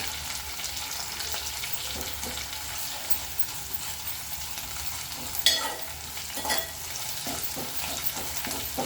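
Ginger-garlic paste sizzles and fries in a pan while a spoon scrapes and stirs it, a steady close crackle broken by occasional louder scraping knocks.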